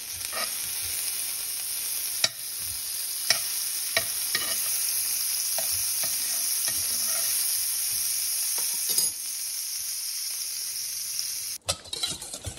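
Steady, loud sizzle of butter frying in a hot cast iron pan, with a few sharp clinks and scrapes over the constant hiss.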